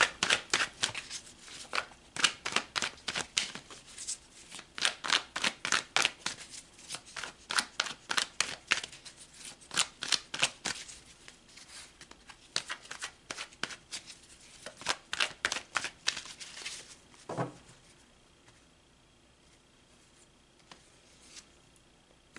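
A deck of tarot cards is shuffled by hand in repeated bursts of crisp, rapid riffling and flicking, close and clear with short pauses between, then a softer tap and quieter handling at the end.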